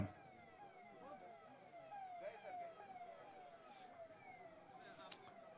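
A siren from the Chief Minister's arriving convoy wails in repeated rising and falling sweeps at a distance, faint beneath an outdoor crowd murmur at a tree-planting event.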